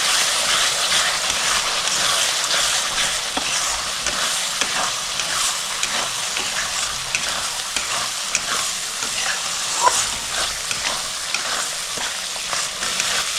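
A prawn curry with a little water just added is stirred in a sizzling pan, a loud continuous hiss and bubble with steady scraping of the spoon throughout.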